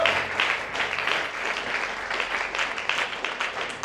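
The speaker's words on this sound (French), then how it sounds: "Acclamez le Seigneur Jésus-Christ." A church congregation breaks into loud, sustained applause, dense clapping rolling on steadily without pause, with a faint murmur of voices beneath it.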